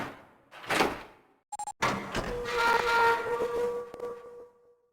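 A sci-fi door in the game 999: 9 Hours, 9 Persons, 9 Doors opens after a short electronic beep, then a long hissing, whistling mechanical slide that fades out.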